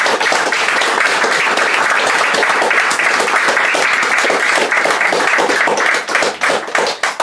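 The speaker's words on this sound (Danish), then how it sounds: "vi klapper af dig." Loud, dense applause from an audience at a lecture on Christianity fills the room, steady and close, thinning into a few scattered claps in the last second.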